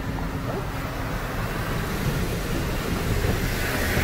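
Automatic car wash sprayers hiss in a steady, broadband wash of water spray while a Broen Losone series ventilation fan runs, close and constant without pauses or talk.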